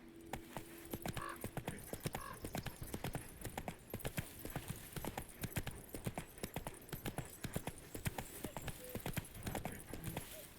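Horse hooves clip-clop in a steady, rapid rhythm throughout a ride in The Witcher 3, moderately close with a brief neigh-like tone early on.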